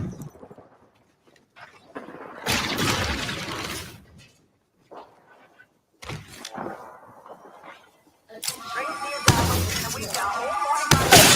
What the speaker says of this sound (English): Enemy shield is broken.